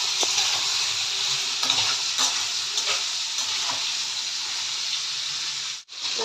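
Mixed vegetables frying in a pan for a Bengali-style sabzi, with a steady close sizzle and repeated scraping stirs, ending in a brief pause.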